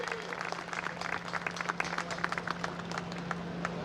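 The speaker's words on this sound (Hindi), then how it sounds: "एक बार तहे दिल से तालियां विनोद राणा जी के लिए" Crowd applause honoring a two-time national athletics champion at a Dussehra festival and weapon-worship gathering of a Kshatriya Rajput association, steady, busy clapping over a constant electrical hum.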